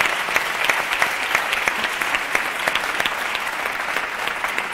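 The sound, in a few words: audience applause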